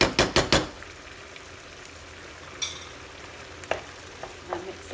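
Chicken pieces being stirred in a pan with a spoonful of tomato ketchup, starting with a quick burst of loud scraping strokes, then a low steady sizzle broken by a few light clinks and scrapes; no talking.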